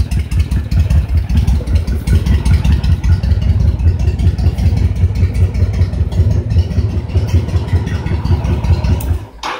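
A Honda VTX 1300 motorcycle engine idles loudly and up close during air/fuel adjustment, a rapid, throbbing pulse that holds steady for several seconds before cutting off abruptly.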